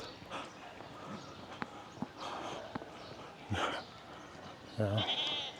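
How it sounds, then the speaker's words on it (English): Goats bleat a few times at a distance on a morning walk in Quezon City, Philippines, short wavering calls rising over a low outdoor rumble, with a louder bleat near the end. "Hey, there's more goats."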